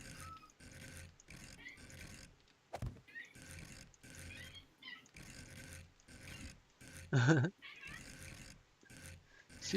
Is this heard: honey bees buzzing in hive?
no